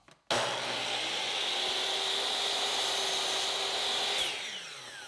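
A miter saw spins up sharply and cuts through wooden edge banding for a sofa table, a loud, steady whining buzz held for about four seconds before it winds down.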